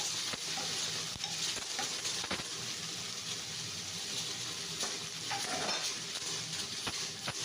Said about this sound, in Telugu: ఆనియన్ కూడా వేసేస్తున్నాము మనకి ఎక్కువ ఫ్రై అవ్వాల్సిన అవసరం లేదండి